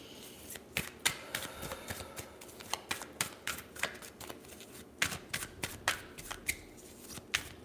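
Cards being drawn and shuffled, heard as a close series of crisp riffling clicks and flutters in irregular bursts, with no talking.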